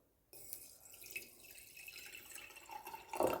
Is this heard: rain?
no